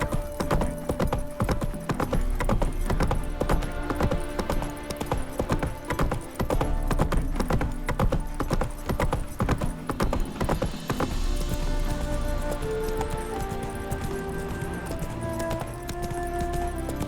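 Galloping horse hooves in The Witcher 3: Wild Hunt, a steady clip-clop rhythm running throughout over layered game music, with a few faint whinnies and no talking.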